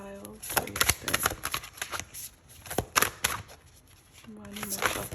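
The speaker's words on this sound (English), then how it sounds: "One more shuffle." Soft papery riffling of tarot cards being shuffled in several short bursts, with a voice speaking between and over them.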